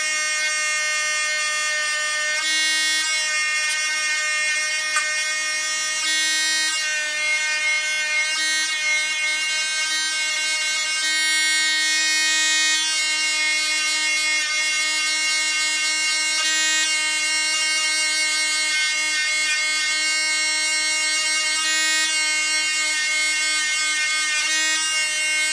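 A rotary tool fitted with a 120-grit pin polisher whines steadily at high speed as it works stubborn tool marks near an edge, a constant close buzz with slight shifts in pitch and no talking.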